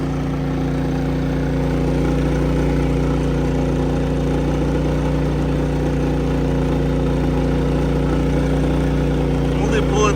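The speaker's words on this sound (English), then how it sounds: "Just heard the generator kick on" A Harbor Freight 3500 watt inverter generator runs at full load with a steady droning hum and strong low tones, loud and constant throughout, while a person speaks over it.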